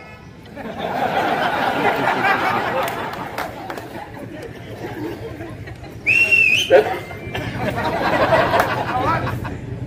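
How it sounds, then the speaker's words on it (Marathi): Sharp whistling rises briefly from an audience partway through, under murmuring crowd chatter and someone speaking at a gathering. "शिट्टी वाजवत आहे."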